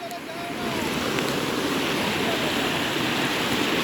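Strong river current rushing as someone wades across, a broad, loud roar of water that swells in the first half second and holds steady; a voice speaks over it.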